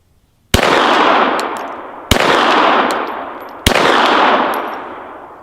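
A Glock 17L pistol fires three loud, sharp shots at steel targets, evenly spaced about one and a half seconds apart, each with a long ringing decay and faint metallic pings from the plates.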